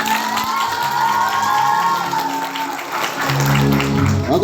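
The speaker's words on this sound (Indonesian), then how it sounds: "Ayo tepuk tangannya, mana tepuk tangannya?" A school audience at a storytelling contest cheers and claps. A loud crowd roar and whoops build into applause toward the end, and a few voices can be heard among it.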